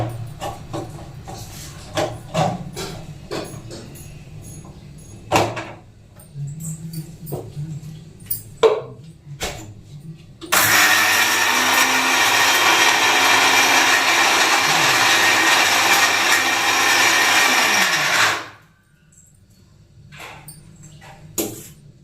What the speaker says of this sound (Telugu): సో ఇప్పుడైతే ఇది ప్రస్తుతానికి మిక్సీ పట్టాలి.